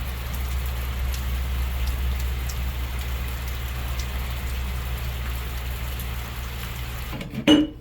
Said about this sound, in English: it is finally raining